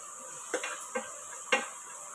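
A spoon stirs a pan mixture with a quarter teaspoon of turmeric powder added, for a snake gourd stir-fry, giving three soft scraping knocks against the pan over a steady background hiss, with no talking.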